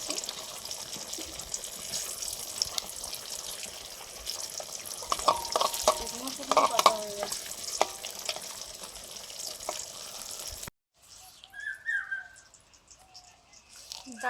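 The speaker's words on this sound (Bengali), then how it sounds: "এবারে দিচ্ছি জিরে গরম মশলা বাটা একসঙ্গে বেটে নিয়ে" A ground paste of cumin and garam masala sizzles and hisses steadily in a pan of hot oil while it is stirred, with faint scraping. The sizzle stops abruptly near the end, leaving quieter kitchen sounds.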